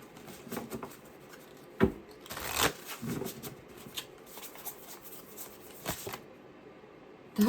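Forest Spirits Oracle cards being shuffled by hand, soft and close, with a quiet, papery riffle and a few sharper card slaps spread over several seconds.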